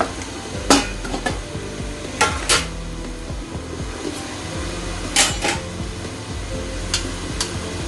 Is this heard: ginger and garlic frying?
yes